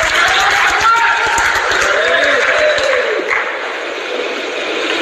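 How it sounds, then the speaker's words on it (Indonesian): Loud, lively audience applause for Kiai Majuddin at a university gathering in Banyuwangi, a full, continuous roar of clapping from a large crowd with background voices, easing slightly toward the end. "Tepuk tangan dulu yang meriah untuk Kiai Majuddin."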